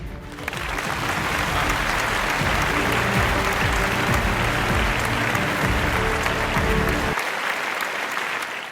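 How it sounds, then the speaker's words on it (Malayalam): An audience bursts into loud, dense applause for an Onam feast, sustained for about seven seconds before cutting off abruptly; no speech over it. "ഇഷ്ടപ്പെട്ടെങ്കിൽ കൈയടിക്കാം"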